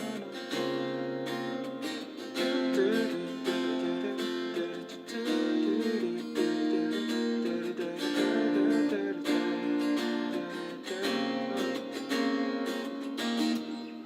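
Strummed chords on an acoustic guitar play a song, a continuous close strumming pattern of rhythmic chord changes lasting about fourteen seconds, with no talk.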